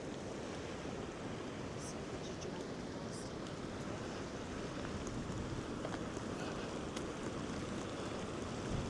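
River water rushes across a low road crossing on a winter trail at Trexler Nature Preserve, making a steady, broad, continuous roar with some wind buffeting on the microphone and no distinct pauses.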